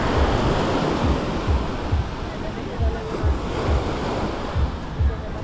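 Surf rolling onto Tamandaré beach, a steady wash of waves with rhythmic low thumps from breaking water, heard close with wind buffeting the microphone.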